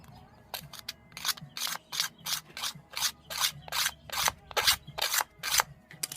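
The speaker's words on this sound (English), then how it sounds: "There's a little bit of a ridge here. You take the blade and just skim it right off." A blade skims a ridge off a plastic robot visor in a run of about a dozen short, rhythmic scraping strokes, close and fairly loud, with no talking.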